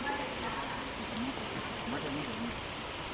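Steady rain hissing across the whole stretch at a school, a dense even wash of drops with no clear breaks, while faint voices murmur underneath.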